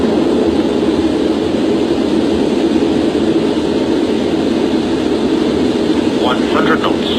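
Concorde jet engines roar in a steady, loud, broadband rumble during the takeoff roll, heard from inside with a brief cockpit callout near the end.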